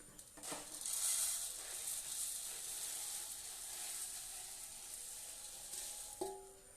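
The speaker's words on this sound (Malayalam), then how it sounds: "ഇട്ട് നമുക്ക് നമുക്ക് ചെറു തീയിൽ തന്നെ ഇട്ട് വറുത്തെടുക്കാം" Puffed rice (pori) roasting in a pan over a low flame makes a quiet, even sizzling rustle that swells early and holds steady, ending with a small knock, close and alone.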